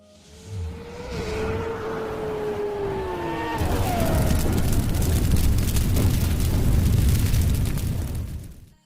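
A restored Hero Honda CD100SS motorcycle engine runs close and loud, settling into a steady, rough, full-bodied roar after a few seconds with no talking.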